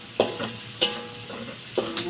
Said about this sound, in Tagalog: Tapos, ihalo natin itong fish cake.